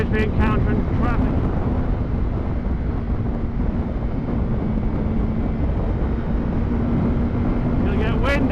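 Steady wind rush buffets the microphone while riding a motorcycle through traffic, a continuous broadband roar with a low engine hum running beneath it and brief voice-like bursts near the start and end.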